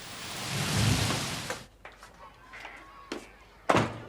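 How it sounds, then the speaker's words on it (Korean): Sudden downpour in a Hong Kong romance film, a dense hiss of rain for about a second and a half before it breaks off into scattered thumps and a few sharp knocks. "갑작스런 소나기에 차오는 비에 홀딱 젖게 되죠."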